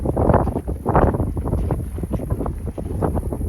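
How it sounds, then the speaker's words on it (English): Strong gusting wind buffets the microphone with loud, low roaring rumbles, rising and falling continuously, on a New Zealand hiking trail. "At least it's windy now."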